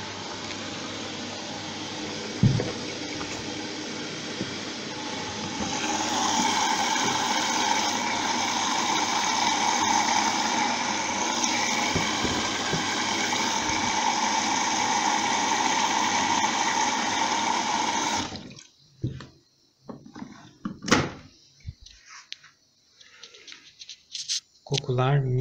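A washing machine running a 40° dark wash takes in water with a steady rushing hiss that runs for about eighteen seconds, then cuts off abruptly, leaving scattered clicks and small handling noises.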